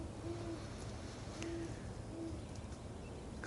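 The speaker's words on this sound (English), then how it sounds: "It's always good to hear owls on Saturn's Day." A barred owl hoots faintly from trees near a backyard before dawn, three short soft hoots spaced out against a steady background hiss.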